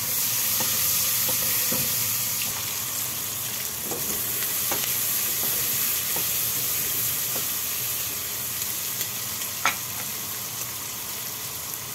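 Chopped onion frying in a pan with bacon and sausage as the base for a pot of Brazilian beans, giving a steady, close, continuous sizzle and hiss with occasional small pops and utensil clicks, no talking.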